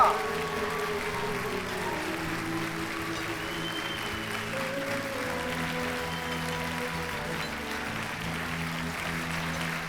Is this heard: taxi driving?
no